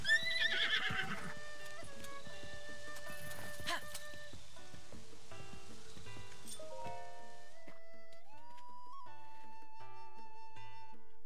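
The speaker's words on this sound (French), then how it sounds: "C'est ton cheval, j'imagine." A horse in the video game Zelda: Tears of the Kingdom whinnies with a clear, wavering neigh, alongside faint hoof clip-clops and soft rain-like game ambience, followed by sustained tonal game sounds.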